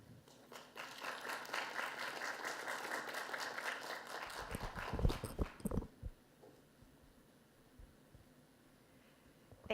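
At a 2012 symposium on human evolution and human development, an audience gives a steady round of applause for a speaker. It stays moderately loud, then trails off into a few scattered claps.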